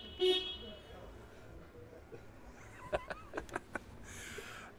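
A weak, thin horn on a Fairline F-Line 33 motorboat gives a short burst of toots, heard close against a quiet background, with a few brief knocks afterward.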